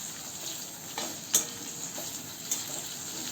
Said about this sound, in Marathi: गरम मसाले परतलं का त्यामध्ये कांदा घालूया आणि कांदा परतून घेऊ.